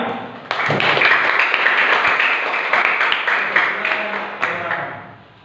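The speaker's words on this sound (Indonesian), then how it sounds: "Tepuk tangan semuanya." Applause from a class of students after a group discussion, a dense, steady clapping that holds for several seconds with a few sharper claps standing out and tapers off at the end.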